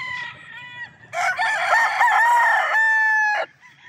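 Early Bird bloodline gamefowl rooster with blue legs, a close, loud single crow, with shorter calls just before, standing out against quiet surroundings.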